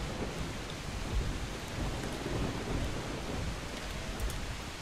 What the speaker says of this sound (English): Being out in the rain is not fantastic for your character